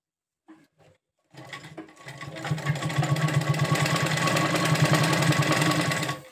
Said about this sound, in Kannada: ನೋಡಿ, ನಾನೀಗ ಹೊಲ್ ತೋರಿಸ್ತೀನಿ.